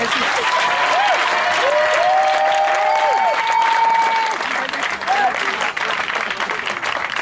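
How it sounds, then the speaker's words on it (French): A church congregation at a Sunday service applauds steadily and loudly, dense clapping filling the room for several seconds while sustained voices and tonal singing or organ-like notes ring over it. "Est-ce qu'on peut applaudir le Seigneur?"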